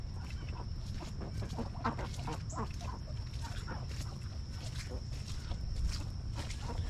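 Ducks at a backyard pond on a morning walk give repeated fowl-like calls and splashy chatter, a steady close mix over a constant high hum with a murmur of voices in the background.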